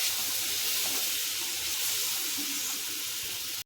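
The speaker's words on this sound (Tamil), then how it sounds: "இப்போ இது கூட 1/2 கப்புக்கு கொஞ்சம் கம்மியாக நான் வந்து பால் சேர்க்குறேன்." Milk poured into a pan of a sweet being cooked, a steady close liquid stream and hiss running unbroken for several seconds, then cutting off abruptly, with no talking.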